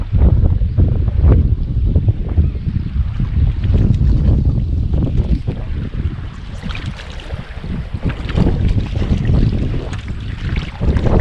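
Strong gale-force wind buffets the microphone during a river fishing trip in Wisconsin's Driftless region, a loud, continuous roaring rush with gusty surges and no voices.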